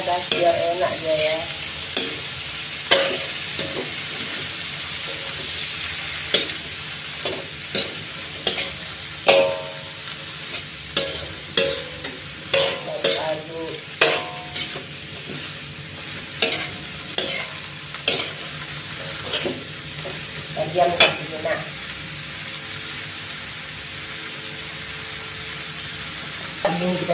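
Long beans stir-frying in a pan, with a steady background sizzle and repeated sharp scraping clatters of a spatula against the pan at an irregular rhythm.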